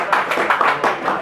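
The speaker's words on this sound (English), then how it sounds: "Round of applause!" Audience applause after a demo at a conference talk on Foreman, a brief patter of claps heard close, with a voice speaking over it.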